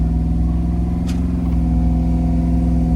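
A 1988 Chevrolet Monte Carlo SS with T-tops drives on a hot, sunny day, its engine giving a steady, close, loud drone with low rumbling harmonics and a faint rising whine, with no talking.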